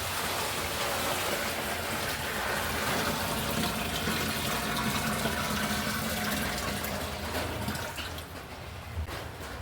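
Water poured steadily into a freshly cleaned home aquarium, a continuous close splashing gush that thins and eases near the end, with no talking.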